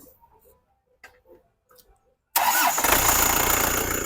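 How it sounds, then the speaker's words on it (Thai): A few faint clicks and quiet knocks, then the 2.5 diesel engine of an Isuzu Dragon Eye pickup truck cranks and catches, settling into a loud, steady rumble close by. "สตาร์ทเครื่องฟังนะครับผม"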